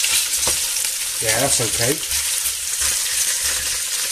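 Pork ribs brown in a large pot for stewed ribs, a loud steady sizzle with occasional knocks and stirring, while a voice briefly speaks partway through.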